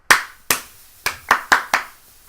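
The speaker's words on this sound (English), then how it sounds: "Well, I thought my clap would be louder." Six sharp hand claps, close and loud, made to set off a sound-activated clapper device, spaced unevenly with quick decays between them and nothing else heard.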